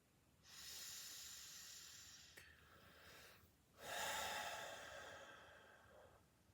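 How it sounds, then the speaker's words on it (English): Slow, deep breaths during a guided meditation, an audible inhale followed by a longer airy exhale, close and soft with no talking. "I just want you to take some breaths with me, just in and out"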